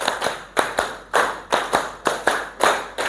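A group of people claps in unison in a counted rhythm, sharp collective claps in short bursts of three repeated about three times, crisp and close with brief gaps between sets.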